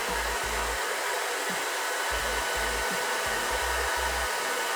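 A hair dryer fitted with a DevaFuser diffuser blows steadily while drying curly hair, a loud constant whooshing roar with faint low thumps as the diffuser shifts, no speech.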